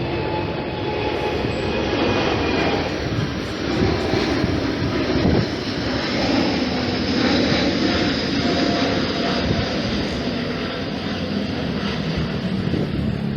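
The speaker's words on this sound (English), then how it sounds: "And apologies for the airplane noise." A Boeing 737 flying overhead gives a loud, broad roar that holds steady for the whole stretch and swells slightly in the middle, with no talk over it.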